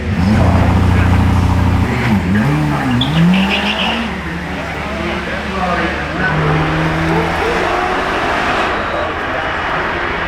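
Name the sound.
SCV12 supercar driving off the start line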